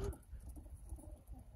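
Racing pigeons coo softly in their loft before the morning fly, a faint low warbling that carries through the short stretch with no voices.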